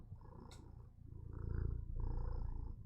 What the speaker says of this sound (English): You hear the purring.